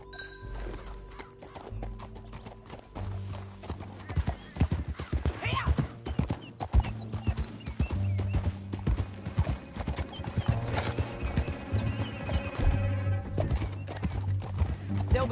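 Horse hooves clip-clop at a steady gallop in the video game Red Dead Redemption 2, a close rhythmic beat running throughout with occasional whinnies and soft background game sound.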